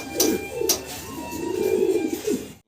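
A pair of large Bombai pigeons coos in soft, rolling low calls that repeat through the moment, close by, with faint background noise and no talk.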